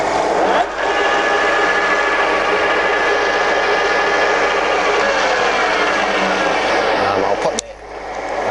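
Steady mechanical whir with a faint rising whine from the spindle of an Arad SNA-560 centre lathe running. It holds loud and even for several seconds, then drops off abruptly near the end.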